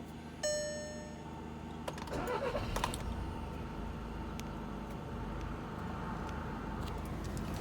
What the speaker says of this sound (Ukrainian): Двигун запускається чітко, працює, звуків посторонніх немає.